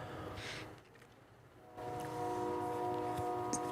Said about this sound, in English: So I don't know if you guys can hear the train in the background.